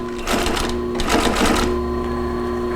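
A lightweight leather sewing machine stitches in two short bursts of rapid mechanical chatter over a steady motor hum, loud and close.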